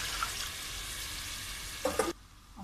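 Mutton masala sizzles and fries steadily in a pot, then flares into a louder hiss and crackle as water is poured in, before settling to a quieter bubbling.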